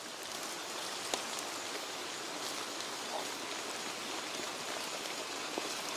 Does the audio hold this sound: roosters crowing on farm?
no